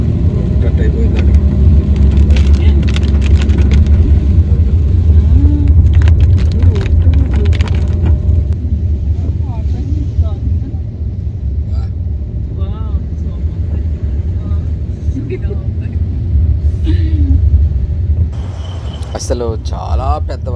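A car drives through flooded roads in heavy rain. A loud, steady rumble of engine and water wash fills the scene, and people talk inside the car over it.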